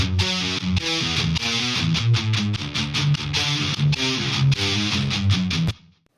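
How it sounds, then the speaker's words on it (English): Distorted rock guitars hitting in an EDM drop of a remix, loud dense chugging chords in a driving rhythm with punchy accents, cutting off sharply at the end. "So all the guitars in the drop,"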